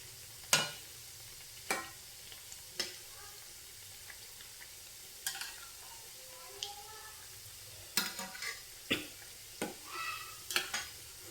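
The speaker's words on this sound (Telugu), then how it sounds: "మనం ఇక్కడ సిమ్లో పెట్టి వేయిస్తున్నాం కాబట్టి టైం పడుతుంది" Frying in a pan over a low flame, with a faint background sizzle and a spoon scraping and tapping the pan in sharp, irregular strokes, quiet and close, clustering more densely toward the end.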